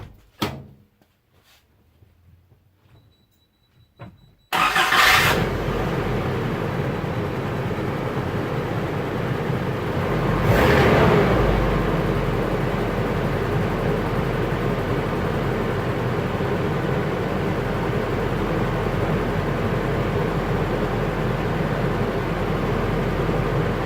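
A 1986 Isuzu Trooper engine, pulled from a junkyard, cranks briefly after a few quiet clicks, then catches and runs at a steady loud idle, with a short rev surge partway through.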